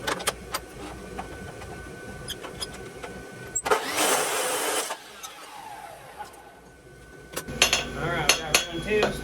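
A farrier cuts a piece of concave steel bar for horseshoes: a harsh sustained cutting burst of about a second amid scattered metallic clanks and taps in a workshop.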